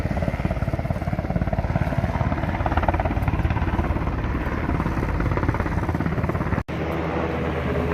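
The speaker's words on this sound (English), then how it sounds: "that helicopter is swinging around something" A loud helicopter close by over the Pacific Crest Trail in Washington, its rotor chopping in a rapid, steady pulse that holds throughout apart from a brief dropout near the end.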